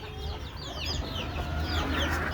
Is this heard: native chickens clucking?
yes